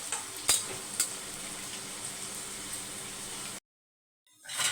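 Meal maker soya chunks fry in hot oil with a dense, steady crackling sizzle and a few sharper pops and stirring knocks, up close, before the sound suddenly drops out.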